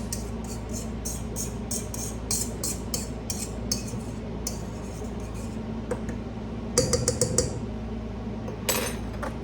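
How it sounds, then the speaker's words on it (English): A utensil repeatedly clinks and scrapes against a bowl while sugar and flour are stirred together, a quick rhythmic tapping with a louder clatter near the end. "I'll just give this a little mix."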